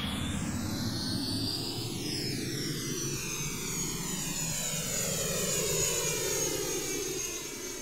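A simulated RC airplane engine in the RealFlight 9.5 simulator game drones steadily, its pitch sweeping as the model flies past, fairly quiet and continuous with no talking.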